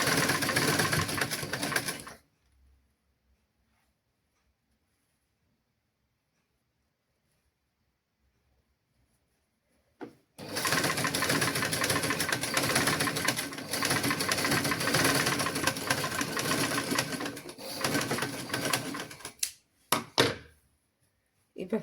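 A sewing machine stitches a curved seam on children's clothing: a brief whir, a long silent pause, then a sustained run of rapid, close stitching that ends in a few stop-start bursts.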